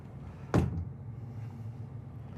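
Heavy-duty solid sliding privacy door at the bedroom of a 2024 Renegade Valencia 38RB RV rolls shut with a single quiet thump, followed by a low hum of the interior.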